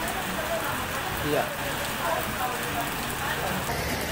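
Rain falls steadily as a dense, even hiss of drops on a surface, with a few faint voices speaking underneath.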